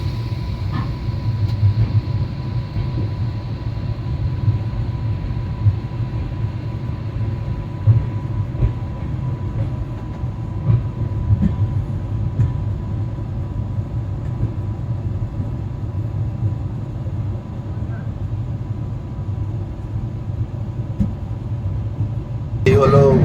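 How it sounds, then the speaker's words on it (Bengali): A steady, loud low rumble of the 13189 Sealdah-Balurghat Express pulling out of Bandel station runs unbroken from a seat inside the coach, with faint clicks and a brief louder swell at the very end. "আমাদের ট্রেন এই মুহূর্তে ব্যান্ডেল স্টেশন ছাড়ছে"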